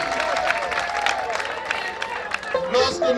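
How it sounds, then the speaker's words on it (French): Crowd applause at a politician's rally at Lac Bleu in Libreville, a sustained wash of clapping from a large outdoor gathering, with voices and cheers mixed through it. "Sous l'applaudissement"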